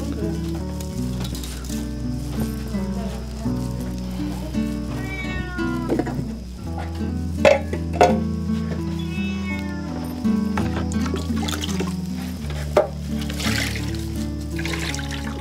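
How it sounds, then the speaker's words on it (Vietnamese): A cat meows a few separate times inside a small house, over a steady low hum and a faint sizzling background. "cái mèo á"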